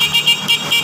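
A loud, steady electronic e-bike horn tone sounds in short repeated bursts, nearly continuous, close by.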